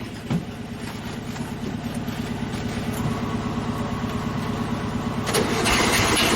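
A Volkswagen car engine cranks and catches, settling into a steady rumbling idle that builds slightly louder toward the end, heard close with no talking.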